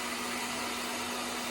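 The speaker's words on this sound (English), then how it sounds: "use my blow dryer with the concentrator with cool air" Blow dryer with a concentrator nozzle running on cool air, a steady loud broadband whoosh with a constant motor whine, unbroken and close, no voices.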